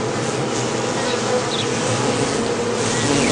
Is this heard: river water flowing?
no